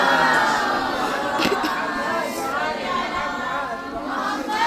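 A crowd at a religious Father's Day gathering reciting salawat aloud together, a dense murmur of many voices chanting in unison, fairly close and steady throughout.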